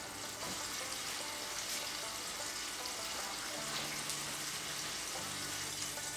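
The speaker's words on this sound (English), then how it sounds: "we want to fry these bitches up nice and golden brown" Snakehead fish nuggets frying in oil, a steady dense sizzle and crackle that holds at an even level throughout with no talking.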